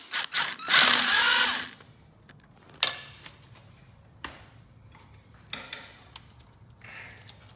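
A power tool with a socket spins out a bolt from a frame bracket on an Arctic Cat 300 ATV. It sounds in one sharp, close burst, followed by fainter clicks and a few short whirs.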